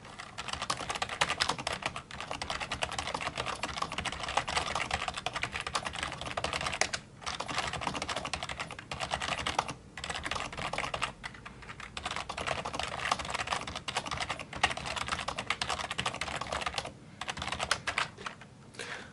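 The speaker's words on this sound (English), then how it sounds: "So I'm just going to be typing, and I'll just be silent." Continuous typing on a Perixx PX-1800 backlit gaming keyboard, a fairly quiet, steady patter of key presses with a few brief pauses, close up and alone.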